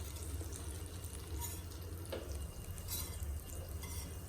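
Melted butter simmers in a pan over a very low flame for an apple pie, a faint, steady bubbling hiss close by with no talking.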